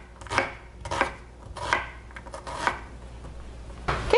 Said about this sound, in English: Slice it in half and then just follow the lines, cutting into the core of the onion